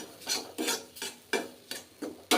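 Grated coconut dry-roasting in a pan is stirred in a regular rhythm, about six scraping strokes each a short burst of gritty rustle, close up and with no voices.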